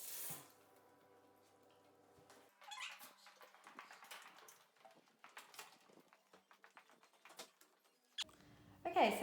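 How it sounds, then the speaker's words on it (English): Veg-tan leather soaking in warm water in a kitchen sink, with a tap running and water splashing at moderate volume, soft clinks and handling noises, then a louder burst of running water near the end. "now that I've soaked my piece of leather in warm water, it's starting to become quite malleable"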